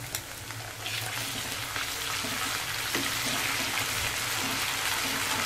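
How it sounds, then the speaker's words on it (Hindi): Ginger garlic paste frying with lightly browned onions on low heat, a steady close crackling sizzle with faint stirring, no voices. "धीमी आँच पर मैं अदरक लहसुन पहले अच्छे से भून लूँगी"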